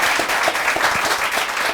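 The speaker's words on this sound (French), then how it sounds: "Allez, on l'applaudit Patrick R." Steady applause from a crowd, dense overlapping claps throughout with no pauses.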